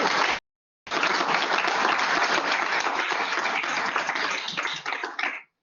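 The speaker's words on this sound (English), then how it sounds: "That deserves a round of applause." Audience applause at a professorial inaugural lecture, a dense steady clapping that briefly breaks off near the start, then runs about five seconds before fading out.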